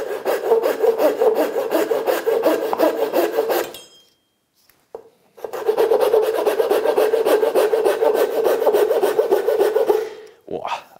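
A cheap folding Japanese pull saw rips lengthwise through wood with loud, close, rapid rasping strokes in two long bursts separated by a short pause.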